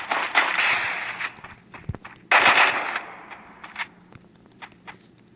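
Gunfire in the mobile shooter Free Fire: two loud bursts of automatic fire, the second starting around mid-clip, then scattered quieter single shots and clicks trailing off.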